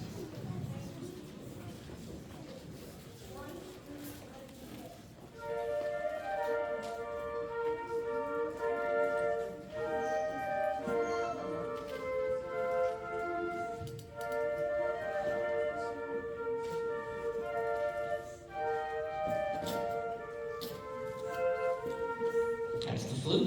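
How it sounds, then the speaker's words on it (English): A school flute section plays Up on the Housetop at a winter concert, a thin, roomy melody of repeated phrases heard at a distance over audience noise and murmuring. "That's the flute, ladies and gentlemen."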